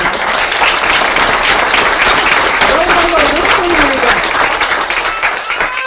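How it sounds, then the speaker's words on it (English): Loud, continuous audience applause at a school board meeting, dense clapping filling the room throughout, with voices and a cheer or two mixed in beneath it. "Please give them an applause."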